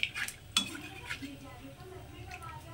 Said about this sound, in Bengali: তো বাদামগুলোকে এইভাবে একটু ভেজে নেব।